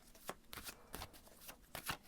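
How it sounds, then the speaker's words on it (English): Tarot cards being shuffled by hand, a series of soft riffling bursts in an irregular rhythm, close and fairly quiet, with no talking. "I'm gonna shuffle and see what the cards have to say about"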